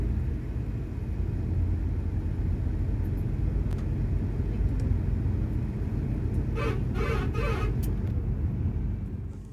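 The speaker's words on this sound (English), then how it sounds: "This was the bus which we boarded from Delhi" Steady road rumble inside a Volvo coach bus travelling from Delhi toward Himachal Pradesh, a continuous low engine and tyre drone with a brief higher hiss near the end, no talking.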